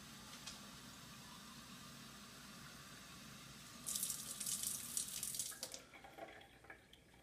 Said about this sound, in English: you're going to take turns filling it up with water